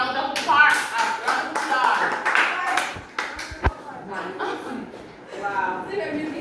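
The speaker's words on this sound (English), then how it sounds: "please give Lexa a round of applause." Clapping from a classroom group of students praising a classmate, uneven and fairly close, with sharp individual claps standing out, chuckles, and a voice talking through parts of it.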